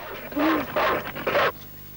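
Recorded dogs play back from a tape, giving a few growling, roaring bursts at moderate level over a hissy background, with no talk.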